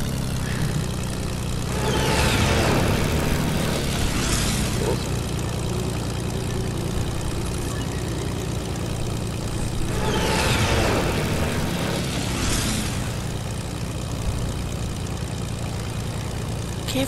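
A plane flies in the video game Fortnite, its engine droning steadily and loudly throughout, with two swelling whooshing surges of wind or passing noise rising and falling at regular intervals over the continuous hum.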